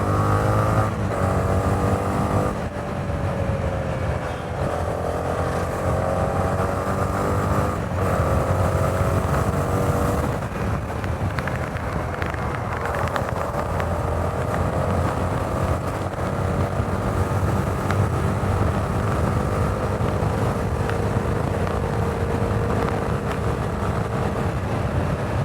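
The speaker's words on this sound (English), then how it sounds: "This definitely does not feel like a 300cc motorcycle." A Honda 300cc motorcycle is ridden with a continuous engine drone whose pitch rises and shifts as it accelerates, mixed with steady wind rush and no talking.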